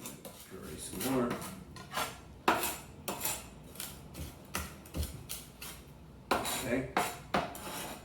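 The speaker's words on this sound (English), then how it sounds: "And that's what it means to crush garlic." A knife crushes garlic with salt on a cutting board, giving repeated close knocks and scraping presses in an uneven rhythm, with a brief spoken word.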